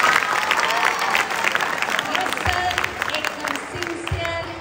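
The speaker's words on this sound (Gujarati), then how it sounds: "એના માટે એને જ બોલ તાળીઓનો ગગડાટ કરો" An audience at a Teachers' Day event claps for a student, a mixed patter of hands with crowd noise and a voice speaking over it.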